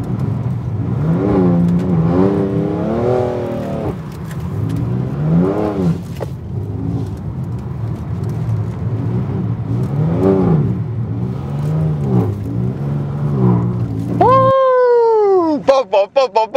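A BMW M3 F80 drifting on track, its engine repeatedly revving up and down in surging waves with people talking over it; near the end a sharp, rising high-pitched rev or tyre squeal cuts through before a sudden drop-off.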